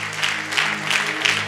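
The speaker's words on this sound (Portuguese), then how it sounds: "Uma linda salva de palmas." A church congregation applauds after a sermon, with a dense, steady wash of many hands clapping throughout, loud and close.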